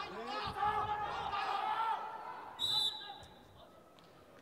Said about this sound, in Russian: Раздается свисток, поднимает участниц этого финального поединка судья.